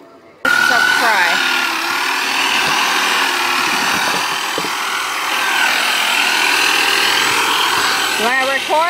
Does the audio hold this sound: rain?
no